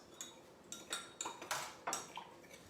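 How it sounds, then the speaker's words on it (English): A gin fizz mixture stirred in a measuring cup makes a handful of quiet, light clinks of a utensil against the cup, spaced irregularly over a couple of seconds. "I'm going to ask Mike to stir that for me"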